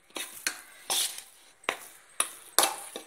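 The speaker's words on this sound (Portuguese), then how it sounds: "Aqui você mistura bem até dar o ponto de você pegar os bolinhos com a colher" A spoon stirring cookie dough in a bowl, a few separate scraping and clinking strokes with short pauses between them, close and clear with no talking.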